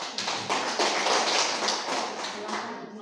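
Students in a classroom applaud after a group presentation, a dense burst of clapping from many hands that swells and then tapers, with no talking over it.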